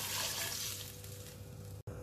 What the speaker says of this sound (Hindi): ये 3 कप और पानी मैं इसमें डाल रही हूँ।